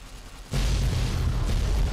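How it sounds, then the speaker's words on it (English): A sudden loud explosion in Fallout: New Vegas, Lonesome Road, bursts in after half a second of quiet and roars on as a sustained deep rumble. "Look at how big that explosion is."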